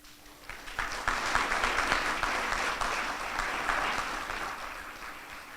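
Audience applause at a medical school white coat ceremony, a sustained broad wash of clapping that builds in the first second and holds steady at moderate loudness, heard alone.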